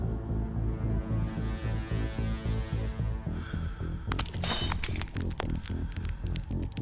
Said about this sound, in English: The window shatters.